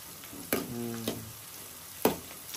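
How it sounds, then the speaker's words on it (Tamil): Quiet sizzling of onions slowly frying in oil, with a few clinking stirs of a utensil against the pan. "இது நல்லா பொன்னிறமாக வதக்கிக்கணும்."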